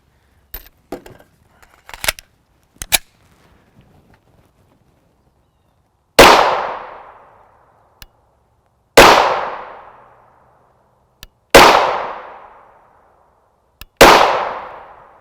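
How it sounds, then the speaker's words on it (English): Four sharp, loud 5.7x28mm gunshots firing Speer Gold Dot 40-grain hollow-point rounds, spaced a few seconds apart with ringing decay after each, preceded by small metallic clicks and handling noises. "Let me fire a couple more rounds out of this."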